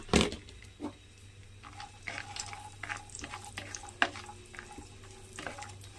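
Ingredients for green pea payasam frying in hot ghee, a quiet, light sizzle broken by intermittent clicks and scrapes of stirring, with no talking.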